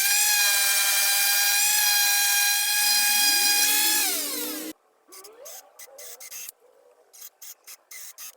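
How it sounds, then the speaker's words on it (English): Power drill driving screws into a Douglas fir table: a loud, steady whine slows and drops in pitch as a screw seats, then short, choppy bursts of the drill follow. "whack a few screws in from underneath just to pull the whole thing together"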